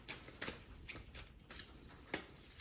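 Tarot cards shuffled by hand in a quiet room, a series of soft riffling bursts and papery flicks in an uneven rhythm, close and fairly faint.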